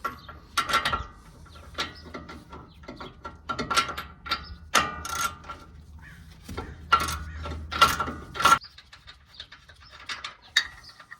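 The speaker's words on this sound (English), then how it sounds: "We're going to remove it with a 21 millimeter deep socket." A ratchet with a 21 mm deep socket works a nut loose during a truck front suspension job. It gives repeated bursts of metallic clicking in short uneven runs, close and fairly loud, with brief pauses between them and no talking.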